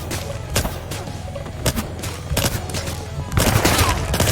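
Video game gunfire in Scarlet Shell comes as scattered sharp shots and bursts, with a denser volley near the end over a steady low background hum.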